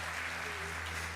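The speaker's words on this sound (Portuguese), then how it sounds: "Aplauda ele, hein?" A church audience applauds a translator, a faint diffuse patter of clapping over a low steady hum, heard at a distance.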